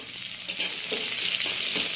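Garlic and panch phoron frying in hot oil in a heated kadai, a steady close sizzle with some spluttering pops and light stirring scrapes, no voices.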